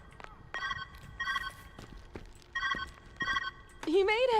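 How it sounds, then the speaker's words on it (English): Telephone ringing in the video game Viewfinder, a series of bright electronic bell-like rings in evenly spaced bursts, followed by a voice speaking near the end. "Where's that ringing coming from?"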